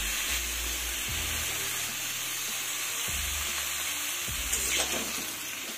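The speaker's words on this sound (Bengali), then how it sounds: "আলু আর ডাঁটাগুলোকে একটু ভেজে নেব" Potatoes and ash gourd stems fry in a pan with a steady, soft sizzle, accompanied by low recurring hums and a few faint clinks, with no talking.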